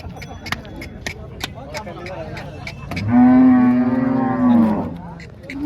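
A Holstein Friesian cow lets out a long, low moo close by at a cattle market in Chalisgaon, India, preceded by scattered clatter and faint voices in the background.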